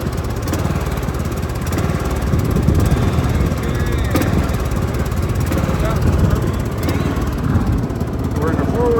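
A tractor engine with no hydraulics runs loud and steady while the tractor drives downhill in forward gear, a continuous close engine drone with rattling, with a voice partly heard over it.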